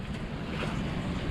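A solo sailboat running at sea under full main and full jib: a brief, steady rush of wind and water noise, with waves washing against the hull and a gusty buffeting on the microphone, no talk.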